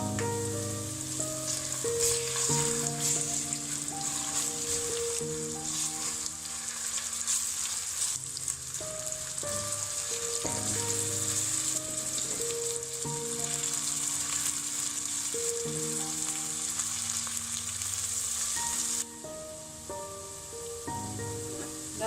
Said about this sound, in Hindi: और अब हम इसमें डालेंगे लहसुन अदरक का पेस्ट, और वो भी हम 2-3 मिनट तक फ्राई करेंगे